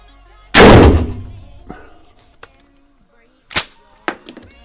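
A single loud blast from a Mossberg 500A pump-action shotgun fired outdoors at a crow-shaped target, followed by a decaying echo and a few scattered clicks and knocks, with no talk.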